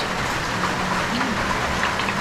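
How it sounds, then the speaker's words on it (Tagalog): Rain falls steadily as a dense, even hiss, moderately loud and close, with no talking. "Umuulan."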